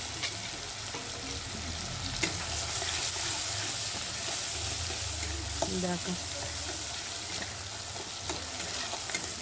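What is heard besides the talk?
onions frying in oil in a pan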